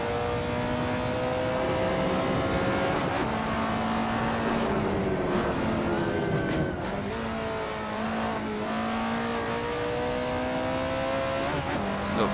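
Alfa Romeo 33 Stradale engine in the Assetto Corsa racing game, revving hard through gear changes with rising and falling whine and brief drops between shifts, continuous and loud.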